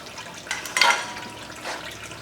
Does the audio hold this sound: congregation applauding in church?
no